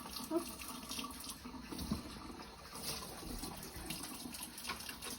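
Water running from a kitchen tap for rinsing, a continuous splashing flow with small surges, moderately close and without voices.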